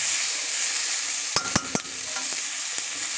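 Tomatoes with salt and turmeric being stirred in a pan, a steady frying sizzle with a few sharp scraping clicks of the spoon against the pan near the middle, close and moderately loud, no talking.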